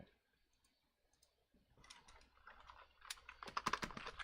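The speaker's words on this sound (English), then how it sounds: "Typing in fucking God first into the search bar instead of the other." Typing on a computer keyboard into a search bar: quiet at first, then a run of rapid clicking keystrokes that grows busier and louder toward the end, with no voices.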